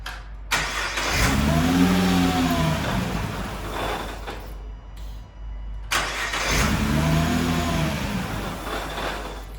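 Engine of a rebuilt, previously tuned 2017 Nissan GTR R35 with upgraded injectors, cranking to life twice with rising revs that settle back, loud and close, the first start followed by a brief cut before the second.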